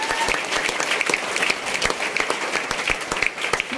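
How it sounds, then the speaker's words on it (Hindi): An audience at a company marketing event applauds enthusiastically for the team, a lively mix of many sharp individual claps, close and sustained. "तो हमारे टीम के लिए ताली कैसा होना चाहिए?"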